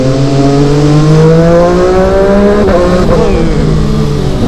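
A Kawasaki 636 sportbike engine revs high, climbing and falling in pitch several times, loud and close, with a raspy exhaust tone and no talking.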